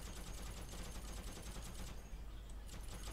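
Faint, rapid video-game gunfire in a World War II shooter, a continuous rattling burst of shots heard at a distance for a few seconds.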